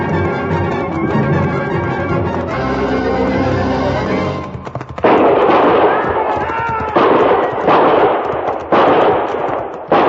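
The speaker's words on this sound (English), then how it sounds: "I knew from the sound of that first volley what had happened" A volley of gunfire rings out as a sound effect in an old-time radio western drama, following a musical passage: several loud, sharp, echoing bursts fire in quick succession, close and dominant.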